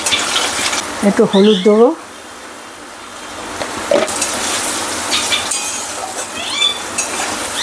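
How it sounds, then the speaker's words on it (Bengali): Potatoes sizzling as they fry in a pan with oil for a Bengali winter vegetable curry. A steady crackle runs throughout, with a few utensil clinks, while someone talks briefly over it. "আলু কটা আগে ভেজে নেবো ভালো করে।"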